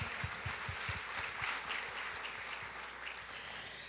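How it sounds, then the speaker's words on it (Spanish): Applause from the congregation at a pastoral seminar in Peru, faint, even clapping throughout, with a few heavier low thumps near the start. "Con un fuerte aplauso."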